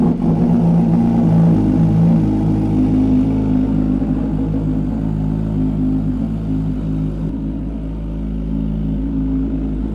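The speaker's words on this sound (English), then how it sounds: "Do the cold start." MV Agusta motorcycle engine firing up from a cold start and settling into a loud, lumpy, high idle with a steady rumble.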